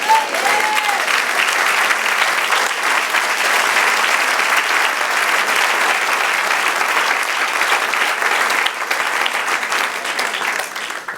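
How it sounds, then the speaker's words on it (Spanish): A church congregation gives a long, sustained round of applause, a thick wash of clapping that holds steady at full strength before easing slightly near the end. "Denle un aplauso, Señor."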